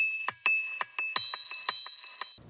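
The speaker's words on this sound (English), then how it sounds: "Right, forgot. The hidden bell." A bright bell sample in a music track rings out in a steady run of about eleven clear metallic dings with shimmering overtones, evenly paced and alone, cutting off abruptly at the end.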